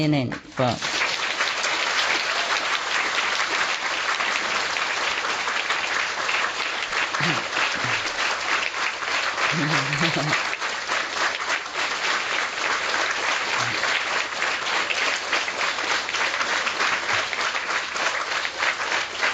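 A large audience applauds at a spiritual talk by a spiritual teacher, with dense, unbroken clapping that stays loud for the whole stretch and a few voices faintly audible underneath.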